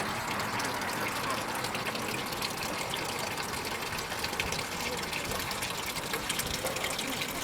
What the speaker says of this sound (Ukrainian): на глибині можна побачити річку Клов і почути, як вона дзюрчить